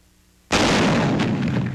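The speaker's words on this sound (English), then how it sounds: "Combat testing the T-21, a 75mm recoilless rifle." A T-21 75mm recoilless rifle fires an HEAT T-38 shell in combat testing: a single sudden, very loud blast after a short quiet pause, followed by a heavy rumbling roar that slowly fades.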